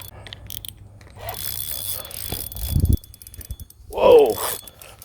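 A fishing reel's drag being tightened while catfishing on a drop shot with chicken bait, giving rapid ratcheting clicks and mechanical scraping, close and moderately loud.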